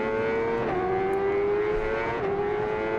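A Ride 5 racing motorcycle engine screams at full throttle, a continuous high-pitched whine rising through the gears with two quick dips at shifts, loud and unbroken.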